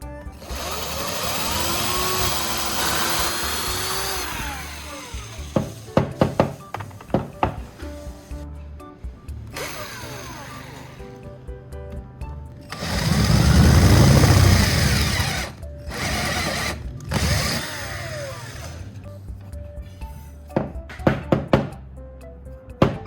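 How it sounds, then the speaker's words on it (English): Power drill boring a hole into a piece of wood: a whirring drill run, a pause with sharp knocks and clatter, then a louder, lower sustained drilling burst, followed by more scattered taps and knocks. "I'll drill a hole into this piece of wood."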